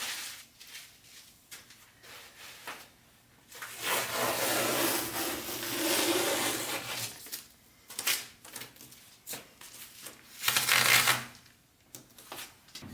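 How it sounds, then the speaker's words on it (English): Masking tape peeled from the edges of an acrylic pour painting, a long rough tearing rub in the middle and a second short ripping burst near the end, close and fairly quiet, with no talking. "I am just going to lift that tape off."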